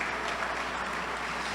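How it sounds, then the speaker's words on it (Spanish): Church congregation applauding together, a steady dense patter of many hands clapping at moderate volume with no voices. "Damos un aplauso a nuestro Padre Celestial, Rey de Reyes y Señor de Señores."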